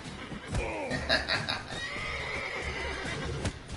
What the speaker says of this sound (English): Horse keeps running in front of you.